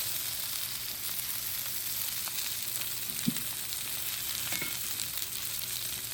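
Fried chicken for Schezwan chicken sizzling steadily in a pan, a soft continuous crackle with a couple of brief clinks and stirring sounds, no talking.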